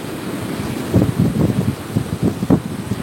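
Ocean waves wash on a beach in close, rumbling surges, with two or three soft swells and a breezy background hiss.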